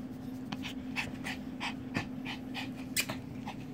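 A dog pants quickly and steadily close by, a quiet run of rhythmic breathy huffs with no talking.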